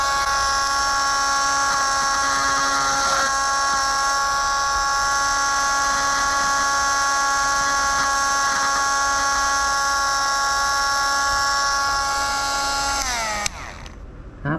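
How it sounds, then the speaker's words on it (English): A rotary tool fitted with a drill bit cleans a seashell, giving a steady high-pitched whine that holds at an even level for a long stretch before winding down abruptly at the end. "it's a little tight for the wheel, so use a drill bit for this."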